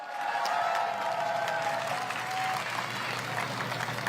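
Applause from a crowd at a political rally in Cheongju, a dense, steady wash of clapping throughout with a faint tonal hum in the background and a slight fade toward the end.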